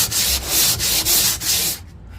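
Long sanding block with 40 grit discs scrubbed back and forth across a flat car body panel, five or six rhythmic rasping strokes, close and alone before stopping.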